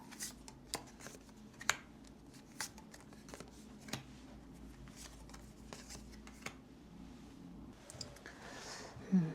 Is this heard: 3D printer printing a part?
no